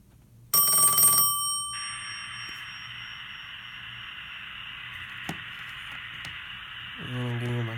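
Western Electric 702B Princess telephone ringing at its loudest setting: one loud, bright bell burst, then a long sustained buzzing ring that holds steady for several seconds with crackly static toward the end.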